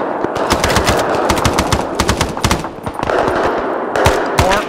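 A machine gun fires tracer rounds in ArmA III during a Vietnam War campaign mission: loud, rapid bursts of automatic fire close by, with brief pauses between strings of shots and no talking.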